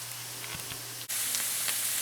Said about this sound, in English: I've been letting this onion saute for about 5 minutes